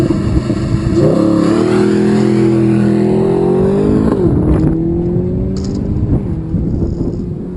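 A Mercedes SLS Roadster's 6.2-litre naturally aspirated V8 revs hard, its pitch climbing through repeated gear pulls with loud, close roaring and brief drops between shifts.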